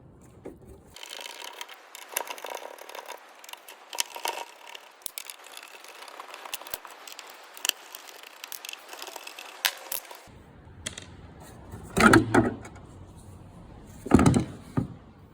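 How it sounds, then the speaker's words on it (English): A Phillips 2 screwdriver backs screws out of the rear light cover on a van, giving a long run of close, dry scraping and ticking clicks, followed by a few louder knocks of the cover parts being handled. "I'm going to use a Phillips 2 screwdriver just to remove these screws from the back cover"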